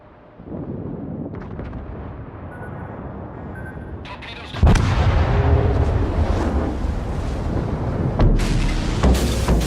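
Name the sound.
battleship Mutsu main guns firing in World of Warships video game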